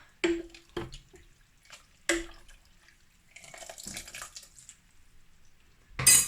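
Noodles and miso broth ladled into a bowl for quick miso rice noodles: several sharp wet splashes and drips, then a longer liquid pour and a final splash, close by with no talking.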